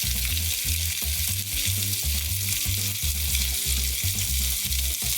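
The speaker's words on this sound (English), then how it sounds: "now I'm gonna start searing these chicken thighs. When they go in, they should sizzle" Chicken thighs searing in oil in a hot pan, giving a steady, loud sizzle and crackle throughout with a low rhythmic rumble underneath and no talking.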